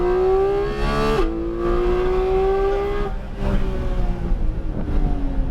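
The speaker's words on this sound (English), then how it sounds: "Roll on the gas and accelerate." Race car on the Sonoma track, a GT4, 296 or Huracan, accelerating with a loud close engine whine climbing in pitch, easing briefly after a gear shift, then pulling hard again.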